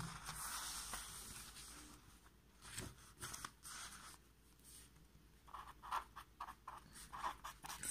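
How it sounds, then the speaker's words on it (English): Pen writing out a maths solution on paper, with soft scratchy strokes and taps at close range, faint and quiet throughout. "So I'll write that here."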